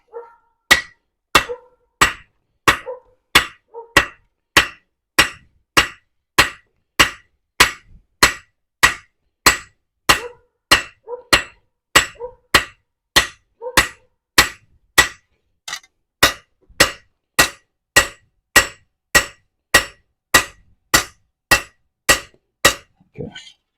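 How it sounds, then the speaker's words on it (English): Steady, sharp hammer blows on steel while forging a knife ring out about once a second, dozens of evenly spaced strikes with brief pauses. "I've got to start hammering back here a little bit more yet."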